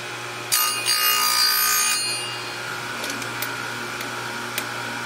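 An Oregon 465 RSW chainsaw sharpener's grinding wheel bites into a chain tooth in a brief, bright grinding burst lasting about a second and a half, followed by a faint motor hum and a few light clicks.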